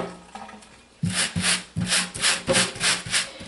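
Liquid coconut-oil soap is rubbed by hand into stains on a wet shirt, first some soft scuffing, then a run of about eight brisk rhythmic fabric-rubbing strokes close by.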